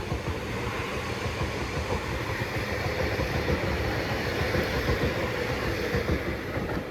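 A Class 331 electric multiple unit pulls away from platform 1 at Earlestown station, giving a steady, loud rumble of wheels and traction noise that holds evenly throughout with no voices.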